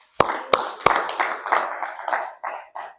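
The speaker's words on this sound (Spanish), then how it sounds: "Démosle un aplauso a Cristo." A church congregation gives a brief round of clapping after a sermon, starting with a few sharp, separate claps and then spreading into a scattered burst of hand claps that fades within a few seconds.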